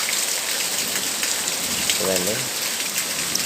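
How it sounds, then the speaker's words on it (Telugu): Heavy rain pours down in the middle of the night while roads and drains flood. It makes a steady, dense hiss of rain on surfaces throughout, and a voice speaks briefly over it. "అంటే 3 గంటల నుంచి వర్షం పడుతుంది. ఫుల్ వర్షము."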